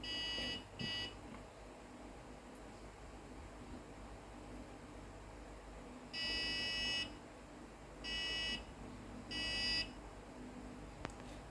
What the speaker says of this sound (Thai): ถ้ามันจะชนกำแพงจะมีบัสเซอร์ดัง